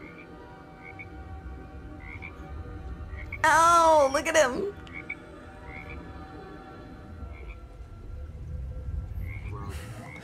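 A frog croaks in a scene from The Book of Boba Fett: one loud, warbling croak stands out for about a second above background talk, with people reacting aloud around it.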